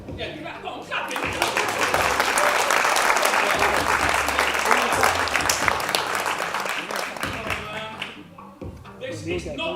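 An audience clapping along at a live event at Bhaktivedanta Manor: dense, sustained crowd clapping with voices and cheering mixed in, loud and continuous before thinning toward the end.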